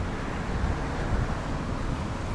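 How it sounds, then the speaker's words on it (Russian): Steady low rumbling wind buffets the microphone, blended with a dull wash of city traffic in the background. "Машины шумят, ветер дует."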